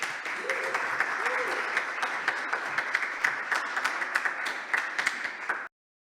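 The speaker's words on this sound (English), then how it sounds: "So give yourself a round of applause, y'all." An audience at a live dramatic book reading claps steadily for about five and a half seconds, a dense, even wash of applause that then cuts off abruptly into silence.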